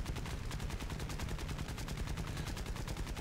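Aircraft machine guns firing in War Thunder during low-level air combat, a continuous rapid stream of regularly spaced shots over a heavy low engine rumble, sustained for the whole stretch.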